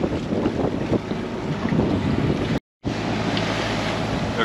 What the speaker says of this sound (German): peitscht es plötzlich mit 30 Knoten und Riesenwellen